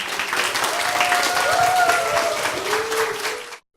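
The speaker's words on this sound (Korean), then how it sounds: "큰 박수 주세요." An audience at a talk show about disability rights gives dense, sustained applause that stays steady and close, then cuts off abruptly at the end.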